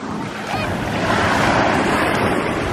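Waves wash onto the shore at South Beach in Miami, a continuous close surf roar that swells slightly partway through, mixed with wind and no clear talk.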